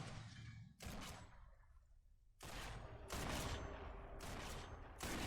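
Bursts of gunfire in the video game Sniper Elite 4, loud clustered volleys starting and stopping in several waves over a few seconds, with no talk over them.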